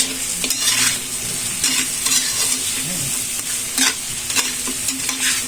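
Garlic buffalo wings being stirred while frying in a pan, with steady close sizzling and repeated scraping strokes of the utensil at an even rhythm, no talking.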